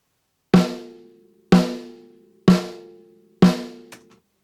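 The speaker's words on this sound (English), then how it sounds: "Here's snare drum as dry as it was originally recorded." Four dry snare drum hits, evenly spaced about a second apart, each a sharp crack with a short ringing tail and no room echo.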